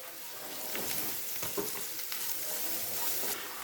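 Curry leaves hit hot oil in a pan for a beetroot and potato curry, giving a steady, close sizzle and crackle with scattered sharper pops throughout and no talking.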